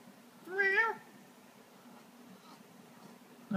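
A cat meows once loudly and close, then a quieter, rising meow begins at the very end, over a faint low hum and near silence.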